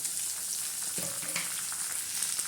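Tomatoes and green chillies fry in a pan for a spicy sprout curry, a dense, even sizzle heard up close with a brief clink partway through.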